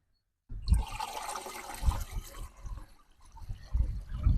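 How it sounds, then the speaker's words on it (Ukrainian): Four litres of water poured into a sprayer container while mixing a treatment for apple trees before blossoming; after a silent start, a gurgling, sloshing pour with glugging surges comes through up close. "І беремо ще 4 літри, заливаємо."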